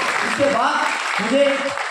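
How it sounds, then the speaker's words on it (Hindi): Audience applause at a direct-selling business seminar in Pune, a steady broadband patter of many hands clapping throughout, with a voice speaking over it. "इसके लिए आप ताली बजा सकते हैं"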